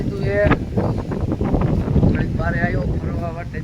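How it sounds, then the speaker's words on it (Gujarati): Strong wind gusts outside a village house, buffeting the microphone in a loud, uneven roar, with someone talking over it. "પવન મારો બેટો વાતું છે વાવાઝોડું જેવું છે"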